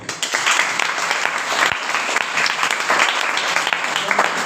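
An audience bursts into loud, sustained applause at a motivational talk and discussion, a thick wall of clapping from many people that stays strong throughout with little variation.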